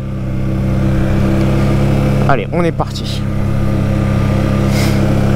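A Can-Am Outlander 700 ATV engine idling loud and close with a steady drone, briefly rising as it pulls away, while someone speaks over it.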